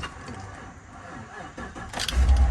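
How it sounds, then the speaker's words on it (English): A pickup truck engine cranks and catches, the starter churning before the motor fires into a loud, low rumble up close at the end. "Let's hope this truck starts up."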